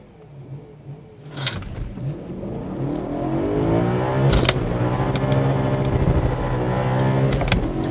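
A Nissan GT-R launches hard with wheel spin, its engine rising from idle into a loud, climbing rev as the car accelerates, with sharp transient clicks and whooshes over the sustained engine drone.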